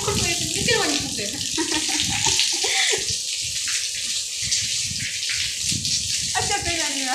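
Water pours and splashes steadily for washing, a continuous gushing like a tap or bucket filling, close by, with people talking over it throughout.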